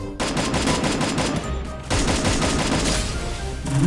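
Rapid automatic gunfire from the Free Fire battle royale mobile game pours out in loud, dense bursts, with a brief lull near the middle before the shooting resumes, and no talk over it.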